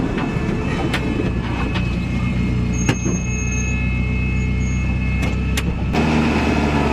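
A Commaero Turbo car with a manually shifted 4N71 transmission drives along, its engine a loud, steady drone with road rumble and a few faint clicks, the tone changing briefly near the end.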